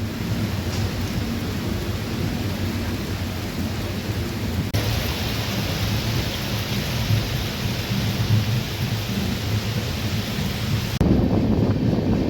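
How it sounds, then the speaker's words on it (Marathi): Heavy monsoon downpour with thunder during a train journey through the Konkan near Dudhsagar Falls, a loud, steady roar of rain with rumbling thunder that holds throughout and swells briefly near the end. "भरपूर जबरदस्त जोरात पावसाला सुरुवात झालेली आहे."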